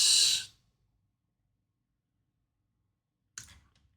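A computer mouse gives two short, crisp clicks with a long quiet gap between them, close and clear with nothing else in the background.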